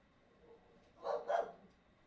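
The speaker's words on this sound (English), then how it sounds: "Oh, my dog's angry about something." Dog barking angrily, two quick gruff barks in succession, faint and somewhat distant indoors against a quiet background.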